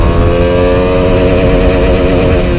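A KTM Duke 200 BS3 motorcycle engine revs loud and close with a continuous buzzing, rising-and-falling tone throughout.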